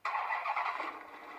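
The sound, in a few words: car engine running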